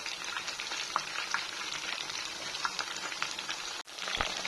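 Steady close sizzle of food frying half-cooked in hot oil, a dense crackling hiss with scattered pops and a brief dropout near the end, no speech.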